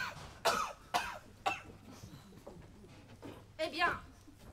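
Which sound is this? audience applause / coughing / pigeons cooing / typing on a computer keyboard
coughing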